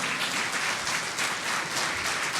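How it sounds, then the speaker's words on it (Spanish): A church congregation applauding steadily during a sermon, dense clapping filling the whole stretch at moderate loudness with no voices. "Dale una ofrenda de palmas al Señor."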